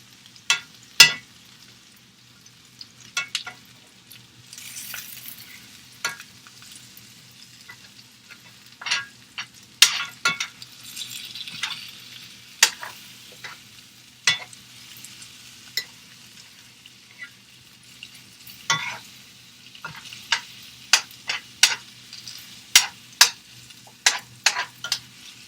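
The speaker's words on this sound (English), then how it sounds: "I'm going to stir these vegetables around." Zucchini and yellow squash sizzle steadily in a cast iron skillet while being stirred, with sharp scraping clicks of the utensil scattered irregularly over a soft, continuous frying hiss.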